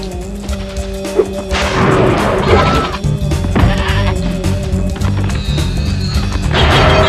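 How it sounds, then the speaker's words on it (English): A yak and a goat bleat in the Summer Forest area of the PS1 video game Spyro 2: Ripto's Rage, with repeated loud bleats over game music and crashing effects. "We have to defeat that yak and goat."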